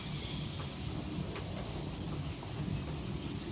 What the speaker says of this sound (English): or rather it's the dripping in my gutters on my left side